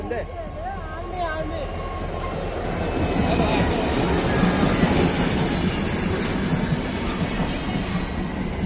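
A train rolls in with a loud, steady rumble and rhythmic wheel clatter, a brief squeal early on, and faint voices in the background.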